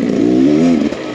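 A Beta X Trainer enduro motorcycle riding a dusty woodland trail, its engine close and loud, the note rising and falling for a brief stretch with no talk.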